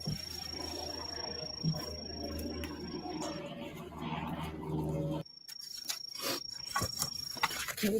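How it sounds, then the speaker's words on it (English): Crickets chirp steadily in the background on a farm plot, a thin, continuous high-pitched trill running beneath low rustling and muffled handling noise, persisting through a sudden change in the surrounding sound partway through. "I hear the crickets in the background."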